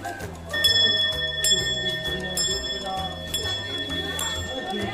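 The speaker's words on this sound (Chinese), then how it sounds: "风铃，大风铃，全部都铜器" Large copper wind chimes in a shop ring with clear, sustained metallic tones, several strikes overlapping and fading, close by among low background bustle.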